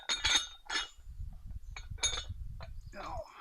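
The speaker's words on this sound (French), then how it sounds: "je suppose que le micro va saturer à cause du bruit de la fonte" Cast iron exercise weights clink and clatter together in a few sharp metallic hits, close to the microphone, with low rumbling handling noise between the knocks.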